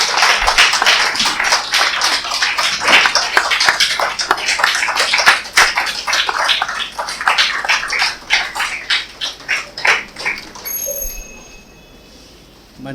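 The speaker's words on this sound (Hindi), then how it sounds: "उनके स्वागत में अभिनंदन में तालियां बजती रहनी चाहिए" Applause from an audience in a ceremony hall, welcoming a guest at a Hindi-language award event. Dense, steady clapping continues for about ten seconds, then thins to scattered claps and fades.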